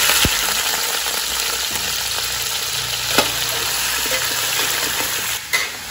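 Steady sizzling of chicken frying in a hot pan with browned garlic, a continuous crackling hiss with occasional stirring clinks near the end.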